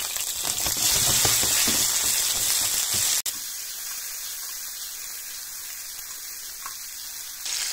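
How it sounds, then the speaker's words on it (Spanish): Sliced garlic, two cayenne peppers and cherry tomatoes hitting hot oil in a pan, a loud, dense sizzle that drops sharply partway through and then settles into a steadier, quieter hiss. "Echamos unos ajitos laminados, dos cayenitas, le echamos los tomates cherry,"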